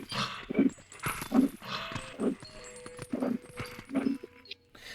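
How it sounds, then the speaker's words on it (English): Wolf Link from the video game Twilight Princess barks repeatedly in short, loud, evenly spaced yelps and woofs, with faint game music tones in between. "Link gets so accustomed to barking in this form"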